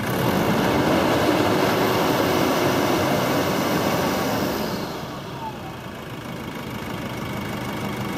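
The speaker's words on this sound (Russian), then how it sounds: "Работа двигателя на высоких оборотах." A 2006 Nissan Pathfinder's 2.5-litre turbodiesel engine is held at high revs with a loud, steady roar. Around the five-second mark it drops noticeably toward a lower, quieter running note.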